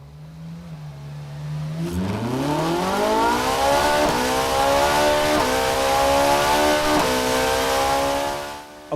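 A car engine in the Forza Horizon racing game idles low, then revs up sharply and climbs through a sustained high-pitched drone, loud and continuous with small dips like gear changes, then cuts off abruptly; no speech.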